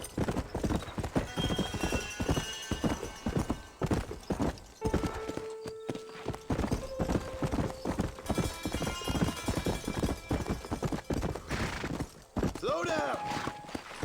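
A horse galloping in the video game Red Dead Redemption, rapid rhythmic hoofbeats close and loud throughout with a whinny near the end, while someone talks over it.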